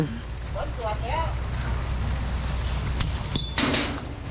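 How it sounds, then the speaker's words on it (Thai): Rain falls during an outdoor airsoft practice session, a soft, even hiss that continues throughout. A few sharp clicks and brief snaps of movement come near the end. "ฝนตก"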